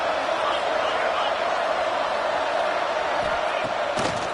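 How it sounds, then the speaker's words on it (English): A college football stadium crowd roars in a dense, unbroken wash of noise, loud and sustained throughout, with a few sharper shouts near the end. "It's early, but this crowd is fired up. Listen to this noise here."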